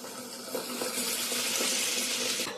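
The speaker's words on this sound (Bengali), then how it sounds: "জল দিয়ে দিই।" Water pours steadily into a pot of ash gourd curry during home cooking, a continuous splashing rush that starts softly, runs loud and close for about two seconds, then tapers off.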